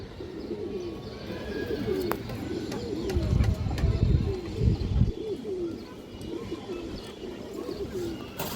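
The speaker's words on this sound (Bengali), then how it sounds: "চায়না খাকি মাদি কবুতর খুব সুন্দর একটা কবুতর" China khaki pigeons coo steadily nearby in a low, rhythmic repeated warble, with a few sharp chirps and brief deeper rumbling bursts in the middle.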